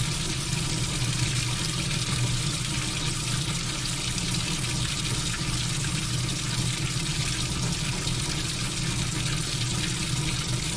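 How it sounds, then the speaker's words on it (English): Chilled water rinsing down the inside walls of an Erlenmeyer flask during aspirin synthesis in a chemistry lab, a steady continuous trickling wash of water running alone for about eleven seconds. "So now we're just rinsing down the sides of the Erlenmeyer flask to make sure we get all of the product out of there"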